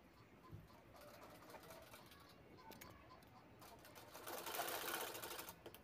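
A sewing machine stitches a fabric shopping bag at home, running as a faint, steady mechanical whir that grows slightly louder toward the end, with no speech.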